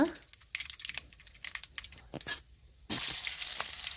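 Mustard seeds and urad dal crackle and pop in hot coconut oil, with scattered sharp spits giving way to a loud, dense sizzle near the end.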